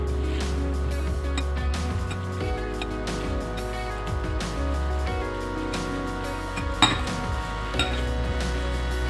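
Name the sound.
mixing chopped tomato with coriander, cumin and chilli powder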